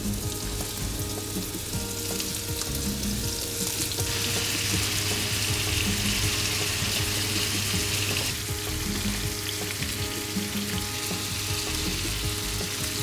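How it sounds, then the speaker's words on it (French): Lamb meatballs frying in hot oil in a pan, a loud, dense, continuous sizzle held close and even for the whole stretch. "alors on va les cuire dans la poêle, dans l'huile chaude"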